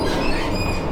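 A two-coach regional train running toward Berchtesgaden in Germany, giving a loud, steady rumble of wheels and motor with no voices.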